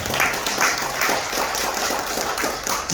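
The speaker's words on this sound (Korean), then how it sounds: "우리 하나님께 영광의 박수 다 같이 한번 보내겠습니다." Church congregation applauding together during a prayer service, an even, continuous patter of many clapping hands heard at moderate distance and fairly soft, with no break across the moment.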